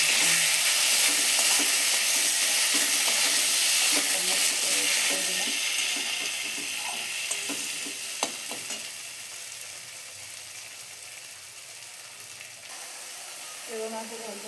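Tomatoes drop into chopped onions fried reddish in a pan for a fish curry, setting off a loud, close crackling sizzle with scraping stir strokes that gradually settles into a quieter hiss.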